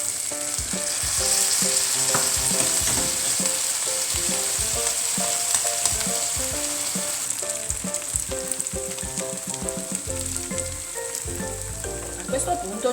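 Spaghetti all'assassina, Bari style, frying with tomato in a pan: a loud, continuous sizzle with bursts of spattering and occasional stirring scrapes over a music bed.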